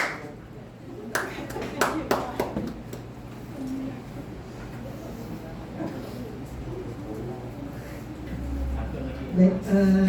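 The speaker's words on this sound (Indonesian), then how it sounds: "Boleh tepuk tangan untuk Miss Reni." An audience claps briefly for a presenter at a school teachers' dissemination event, a short burst of applause early on, then fading into room murmur and a voice.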